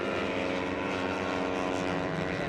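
Small-displacement race motorcycles on bone-stock exhausts, from 650 production and 500 twins classes at an AFM road race, buzz past in a continuous, fairly distant high whine with no talk.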